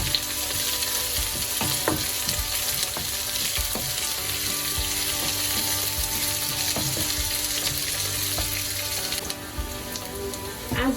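Onions frying and being stirred in a pan for vegetable biryani, a steady close sizzle with scraping stir strokes running throughout, with no talk.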